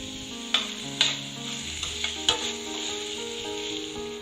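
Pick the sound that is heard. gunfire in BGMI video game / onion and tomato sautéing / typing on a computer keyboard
onion and tomato sautéing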